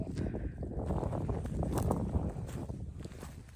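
Wind blowing outdoors at a greenhouse during plastic installation, a rough, buffeting rumble with microphone wind noise that stays steady and fairly close throughout.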